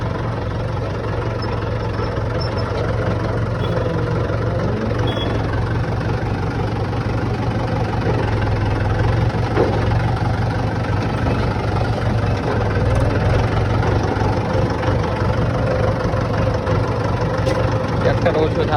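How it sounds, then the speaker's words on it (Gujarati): A farm tractor engine runs steadily at a constant idle-like chug, a continuous low mechanical rumble with faint background noise throughout and no clear changes in speed. "ટ્રેક્ટર લઈને પાછો નીકળી ગયો ખેતરમાં"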